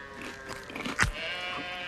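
Sheep bleat inside a cave in an animated cartoon, with one clear bleat standing out over a murky, echoing background.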